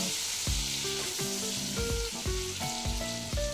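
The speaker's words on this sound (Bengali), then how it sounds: "আলুটা ভাজা হতে থাক" Potato pieces with turmeric sizzle in a pan, a soft continuous hiss beneath prominent background music with steady, clear musical notes.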